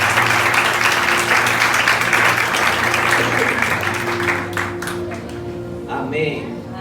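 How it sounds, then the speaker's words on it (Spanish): Church congregation giving loud, sustained applause during a sermon, dense clapping over a held musical tone, thinning toward the end as a voice emerges. "vamos a darle un fuerte aplauso al Señor"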